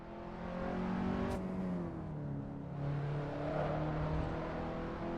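A car on a race track at a track day, engine loud and close as it brakes and heel-toe downshifts, pitch falling and rising with revs, alone without talk.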